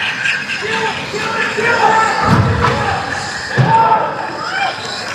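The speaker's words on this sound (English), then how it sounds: "All I got is crowd noise." Crowd noise in a gym at a junior varsity game, a constant murmur of spectators with a couple of loud thuds from a ball or a slam standing out, and voices mixed in throughout.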